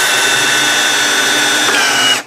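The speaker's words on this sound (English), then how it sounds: "I'll drill it with this bigger bit." A power drill spins a larger bit into a seized brake bleeder, a steady close high-pitched whine holding throughout and dropping in pitch near the end as it bottoms out.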